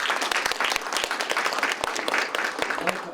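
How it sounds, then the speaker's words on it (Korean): An audience at a literary awards event claps warmly to welcome the poet Kim Yong-taek, a dense, steady burst of many hands applauding. "여러분들 따뜻한 박수로 맞이해 주시면 감사하겠습니다"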